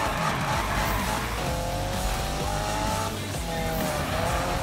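In the Need for Speed video game, a car drifts through corners with a loud engine under sustained, wavering tire squeal, close and continuous, with a little talk in the background.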